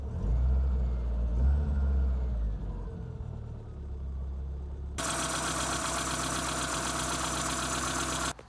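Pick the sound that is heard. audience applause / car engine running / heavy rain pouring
car engine running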